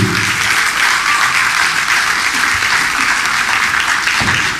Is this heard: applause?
yes